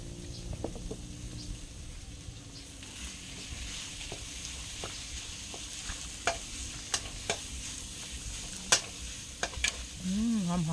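Pork stir-fries with chili and garlic in a pan, giving a soft continuous sizzle broken by scattered spatula clicks and scrapes, quiet and close with no talking.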